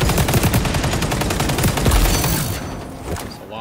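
Rapid, loud automatic gunfire in XDefiant, a dense continuous stream of close shots that cuts off near the end, leaving a fading tail.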